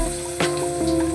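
Onion frying with green chillies in a small amount of oil for boiled egg bhurji, giving a close, steady sizzle with short bursts of crackling as it is stirred.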